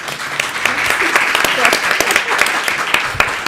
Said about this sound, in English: Healy, you're getting applause before I even tell them about your accomplishments